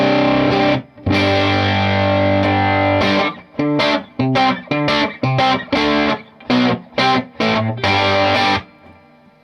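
Electric guitar through a Milkman Half Pint amp with the distortion knob at maximum, loud and tight: a long sustained chord, then a run of short choppy chords with brief gaps, ending in a fading ring.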